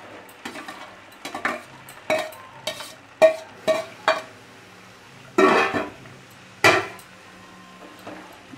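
Fried vegetables are tipped into mung dal in a pot and stirred, giving a series of irregular, close metallic clanks and scrapes of a spoon against the pot, with short quiet gaps between the knocks.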